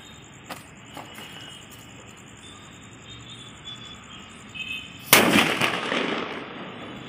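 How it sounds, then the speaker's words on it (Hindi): A parrot bomb firecracker goes off outdoors during Diwali with a sudden loud crackling burst that fizzes and decays over about two seconds. Insects chirp faintly beforehand, and a few small pops come earlier. "इस पैरट बम को जलाते हैं।"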